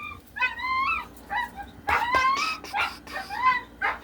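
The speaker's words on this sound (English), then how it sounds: "That's not my dog, by the way." A dog nearby at an RV park gives short barks and high whimpering yelps, several bursts spread across a few seconds, fairly close and clear with no talk over them.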